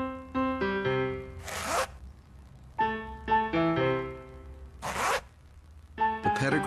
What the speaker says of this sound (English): The Pedigree Slide Right Zipper Bag keeps every bite as fresh as the first.